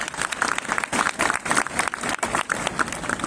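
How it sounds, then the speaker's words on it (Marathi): An indoor audience at a speech honouring teachers bursts into dense, sustained applause, many hands clapping rapidly and loudly for the whole stretch. "त्यांच्यासाठी जोरदार टाळ्या."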